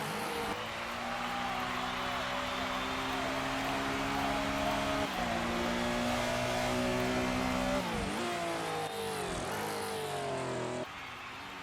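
Formula One race cars at the 1956 British Grand Prix, their engines giving a loud sustained roar with rising and falling pitch and audible gear changes as the cars pass, with no voices.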